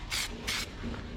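Self-etching primer sprays onto bare car-body metal in two short hissing bursts from a spray can, close and fairly quiet, with a faint third puff at the end.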